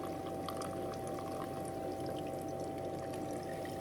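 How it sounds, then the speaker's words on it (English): Holy basil tea strains through a tea towel in a soft, steady trickle of liquid, faint and continuous with no voices. "Just draining through that tea towel."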